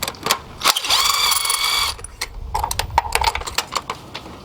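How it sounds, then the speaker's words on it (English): Ratchet tool spinning out spark plugs on a Honda K series engine, a close, rapid metallic clicking that sounds in bursts with short pauses between them. "Then I'm going to cheat and use my tool because I don't want to be wrenching here for forever."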